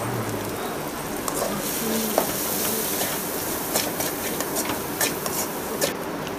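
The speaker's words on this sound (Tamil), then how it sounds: "மசாலாவோட பச்சை வாசனை போகிற வரைக்கும் கொஞ்சம் வதக்கிக்கலாங்க." Spiced masala with chilli powder is sautéed in a pan for green pea pulao, giving a steady, fairly loud sizzling hiss with intermittent stirring scrapes throughout and no speech.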